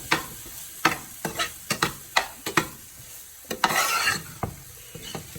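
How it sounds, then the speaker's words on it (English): Vegetable poha with ripe tomatoes and potatoes being stirred in a pan, a string of distinct spoon scrapes and clacks over a soft sizzle, with one longer burst of frying hiss midway. "I'm just going to give it a nice mix over here."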